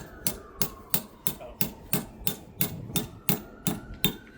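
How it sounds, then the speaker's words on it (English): Steady metallic hammer strikes, about a dozen evenly spaced blows, close and sharp, driving pergola ground anchors down into holes, with no talking. "now you want to set these anchors in the hole and hammer them down."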